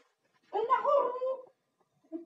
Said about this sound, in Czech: To je dobrý pes.